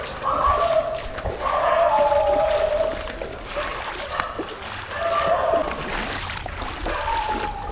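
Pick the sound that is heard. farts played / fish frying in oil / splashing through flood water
splashing through flood water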